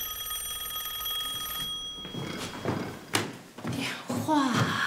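A telephone in a home in a period family drama rings with a steady electric bell tone for about two seconds, then stops as voices start talking nearby.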